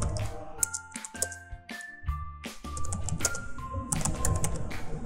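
Quick bursts of keystrokes on a computer keyboard while typing at a command prompt, close and clicky, sometimes in fast runs and sometimes in short pauses, with soft electronic tones mixed in.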